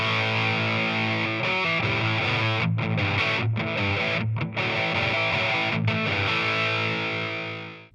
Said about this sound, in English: it's got that very British crunchy distortion sound and it sounds really good